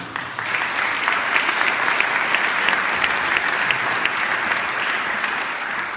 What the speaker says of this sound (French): Il faut savoir dire merci et bravo, on peut l'applaudir.